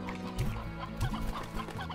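Hen clucking from the video game Slime Rancher: short, close clucks come in a quick uneven rhythm over a low game soundscape, with no talk.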